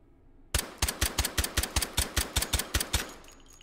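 Suppressed Glock G41 pistol fired in H3VR, a quick, evenly spaced string of about fifteen muffled, punchy shots after a brief quiet start, each with a short tail, no talking.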